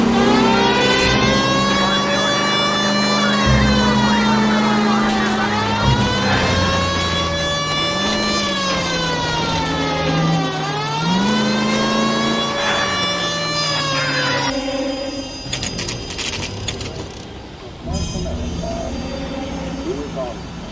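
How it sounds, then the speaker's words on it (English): A police car siren in the LA Noire video game wails in rising and falling sweeps over a running car engine, loud and close, then cuts off, leaving engine noise and scattered knocks. "This would be a good time for the siren."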